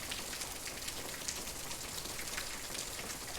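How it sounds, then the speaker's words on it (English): Steady rainfall patters continuously as a soft bedtime backdrop, with dense droplets hitting a surface evenly and no voices. "and let's cue the rain sounds."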